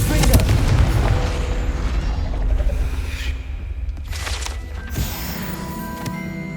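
A Confringo fire spell explosion in the game Hogwarts Legacy: a heavy booming blast up front, followed by crackling bursts and another sharp impact later, loud and close, with a voice speaking over parts of it.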